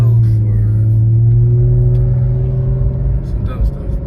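A BMW E46 wagon drives down the road with fresh VANOS seals, its engine giving a loud, steady low drone and rumble with gentle pitch shifts from the cabin.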